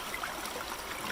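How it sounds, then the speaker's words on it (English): Creek water sloshes as a gold pan is swirled in and out of a stream while prospecting in western Washington State: a steady, soft watery rush with faint trickles and no voices. "circular motion in and out of the water, not completely out, just enough to wash away that top level"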